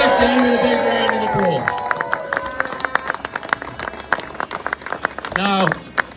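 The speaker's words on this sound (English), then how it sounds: "Please give David a big round of" Outdoor crowd at a farmers' event breaking into applause and cheering, scattered claps building into a steady round after a speaker's voice fades, with background chatter throughout.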